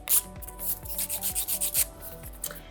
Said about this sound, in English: 100 side grit, and gonna shape the nail.